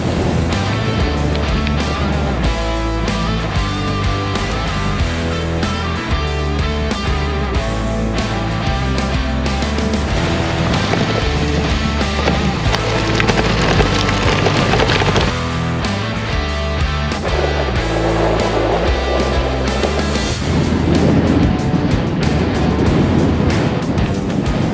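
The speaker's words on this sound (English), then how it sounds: "It is very windy up here, too windy for a drone." Strong wind roaring across a hilltop in the Scottish Borders, a loud, constant broadband rush that buffets throughout with no letup, swelling slightly in places; no voices.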